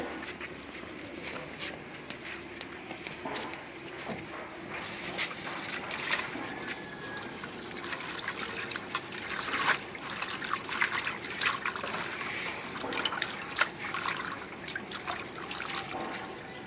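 Kitchen ingredients, including fresh coriander leaves, are washed under running water, giving a soft, steady trickle and splashing with occasional sharper drips and clatters as they are handled, faint and without talk.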